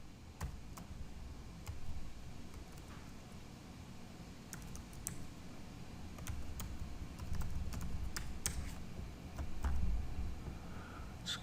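Keys clatter in irregular bursts on a computer keyboard as information is entered into a JavaFX program, with crisp individual clicks over a low, steady room hum.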